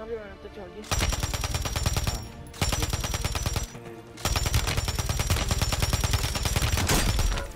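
Rapid automatic gunfire from the Warzone video game, with three long, loud bursts of dense shots separated by short pauses.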